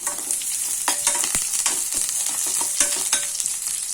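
Green chillies frying in hot oil for a stingray fish curry make a constant close sizzle, with spatula scrapes and taps breaking through now and then.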